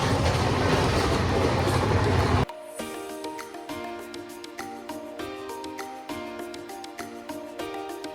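A passenger train travelling toward Puri roars loudly at first, then drops to a steadier, quieter rumble with rhythmic clickety-clack of wheels over rail joints, heard from inside the carriage.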